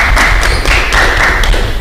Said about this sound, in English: We appreciate your applause.